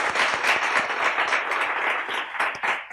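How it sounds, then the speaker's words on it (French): An audience at an Advance Week event bursts into dense, continuous applause, with many overlapping claps at a steady loud level for the full few seconds. "Voilà, maintenant avec un tonnerre d'applaudissements."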